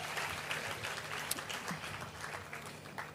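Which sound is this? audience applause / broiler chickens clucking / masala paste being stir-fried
audience applause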